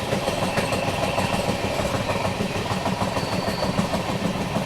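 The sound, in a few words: Amritsar Express train running towards Morena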